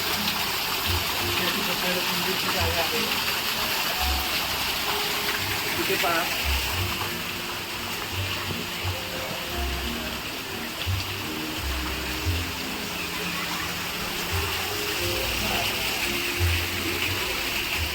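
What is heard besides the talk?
small waterfall flowing under a little bridge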